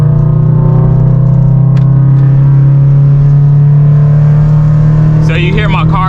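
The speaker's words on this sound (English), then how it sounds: "So you hear my car is getting louder and my speed is going up and my RPMs are going up." A car engine hums loud and steady in low gear, its pitch holding high as it revs, with a short voice near the end.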